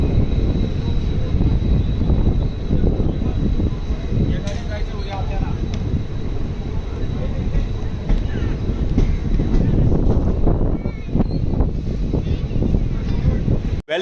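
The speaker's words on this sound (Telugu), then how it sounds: "ఇది మధురై రామేశ్వరం ప్యాసింజర్ ట్రైన్ అండి" The Madurai–Rameswaram diesel passenger express runs along the line with a loud, continuous low rumble, heavily buffeted by wind roaring across the microphone, while voices come and go beneath the noise.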